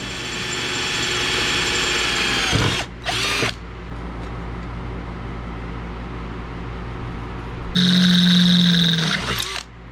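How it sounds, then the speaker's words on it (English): A power drill whines steadily as it bores into a metal plate, loud and continuous, with brief pauses and a higher-pitched burst near the end. "I need to drill a hole in this and get a hole drilled in the plate"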